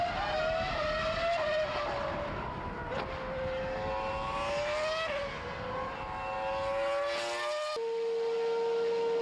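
Blood-red Ferrari racing cars scream past at full throttle, their loud, high-pitched engines rising and dropping sharply in pitch through gear changes, with no talk over them.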